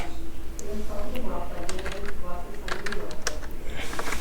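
Someone types JavaScript code on a computer keyboard in quick, irregular bursts of clicks, close and steady beneath ongoing talking.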